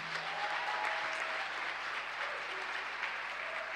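A church congregation applauds and cheers Jesus Christ during a worship service, a steady, dense wash of clapping that holds at an even level for several seconds.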